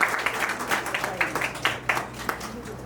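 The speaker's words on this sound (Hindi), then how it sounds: "हेमंत जी, वर्तमान कैप्टन जोरदार तालियां।" An audience applauds at a corporate event held by a labour-law consultancy, honouring the current captain, with a patter of moderately loud claps coming in uneven waves.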